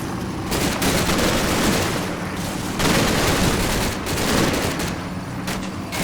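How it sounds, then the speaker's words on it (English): Small arms fire in the World War II Normandy battle game Combat Mission Battle for Normandy, a loud continuous fusillade of overlapping rifle and machine-gun shots with distant booms. "Lots of small arms fire."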